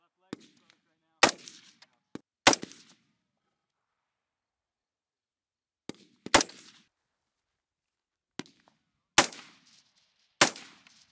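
Individual rifle shots from USMC live-fire target training near Mount Fuji, loud sharp cracks fired singly and in spaced pairs with short silences between, each shot trailing a brief echo.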